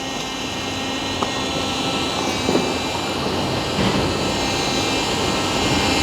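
Self car-wash wet vacuum cleaner blowing air in a steady, loud whooshing roar that holds without pause, with a few faint clicks and knocks along the way.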